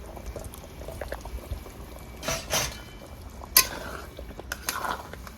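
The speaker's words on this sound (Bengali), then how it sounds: "দিয়ে দিলাম টমাটো, আদা, রসুন, কাঁচা লঙ্কা, শুকনো লঙ্কা সব একসঙ্গে পেস্ট করে দিয়ে দেবো।" A paste of tomato, ginger, garlic, green and dried chili goes into a pan for a village-style burnt-spice chicken curry, making wet plops and sizzling splashes in a few bursts over a low background simmer.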